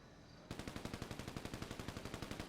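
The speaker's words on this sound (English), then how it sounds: "A lot of gunfire." Sustained automatic gunfire in GTA 5 bursts in after a quiet half second, a rapid, evenly spaced stream of loud shots continuing without pause.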